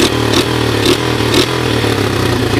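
A Honda ATC 125 three-wheeler engine idling nearby, a steady low chugging rumble with a faint rhythmic clatter, a slapping sound, pulsing through it.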